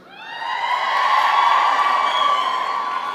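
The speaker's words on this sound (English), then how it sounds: "I guess cheers aren't applause" Crowd at a university commencement ceremony raising a sustained cheer with high whoops and shouts, swelling in over the first second and holding loud and steady to the end.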